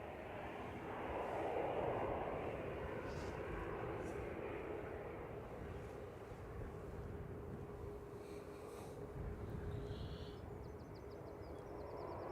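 An EasyJet Airbus A320 departs from runway 05L at Manchester Airport, a broad engine roar swelling then holding steady at a distance, with a voice talking over it.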